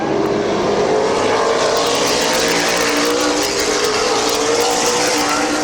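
Race cars at Midvale Speedway roar loudly around the oval in a pursuit race, engines blaring in a dense, continuous wall of noise with rising pitch as the pack accelerates nearby.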